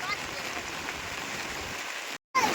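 Heavy overnight rain falls outside a rural home as a steady, faint hiss that cuts out abruptly just before the end.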